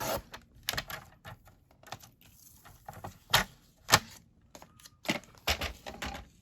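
A paper piece for a junk journal is trimmed along its edge, giving a run of sharp, close snips and clicks at an uneven rhythm with quiet gaps between, no talking.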